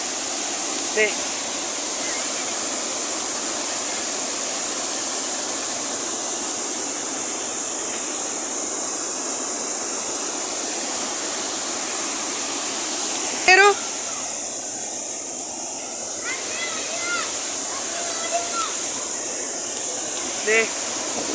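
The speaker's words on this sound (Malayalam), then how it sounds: "നമ്മുടെ ചാർപ്പ വെള്ളച്ചാട്ടം" Steady broadband rushing of Charpa waterfall in rain fills the whole stretch, constant and unbroken, with a few brief faint knocks and chirps above it.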